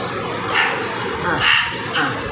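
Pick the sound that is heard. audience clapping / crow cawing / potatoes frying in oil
crow cawing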